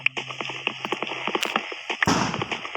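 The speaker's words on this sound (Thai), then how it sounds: "โหเสียงระเบิด มีงานสุกครับ ถ่ายทำตอนงานสุก" Rapid bursts of fireworks crackle and pop in an irregular series at a festival, with a louder boom near the end, set against background noise.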